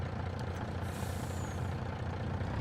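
A short hiss of a truck air brake releases over the steady rumble of a nearby idling engine.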